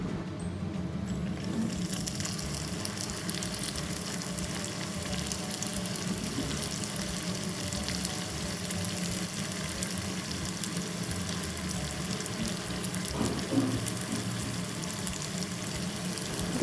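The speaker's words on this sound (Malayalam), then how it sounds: "ഇനി ഇത് നമുക്ക് നല്ല ചൂട് എണ്ണയിലിട്ട് പൊരിച്ചെടുക്കാം." Sweet samosa deep-frying in hot oil, a steady, dense crackling sizzle that stays close and even throughout, with no talk.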